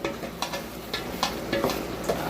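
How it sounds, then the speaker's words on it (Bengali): Chickpeas sizzle as they fry in a pan and are stirred, with a steady crackle under repeated scraping strokes of a spoon, close and fairly loud. "দেখুন আমি এই বুটগুলোকে একটু নেড়ে দিব।"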